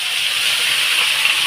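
Cubed potatoes and pointed gourd sizzle in hot oil in a pan, a steady, fairly loud hiss with no breaks and no talk over it.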